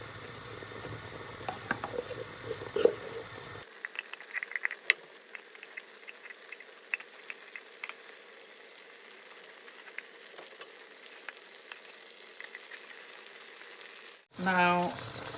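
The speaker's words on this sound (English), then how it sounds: "So this is a boiling water." Water bubbles and simmers steadily in a pot, a soft crackling hiss with scattered pops, fairly quiet and close.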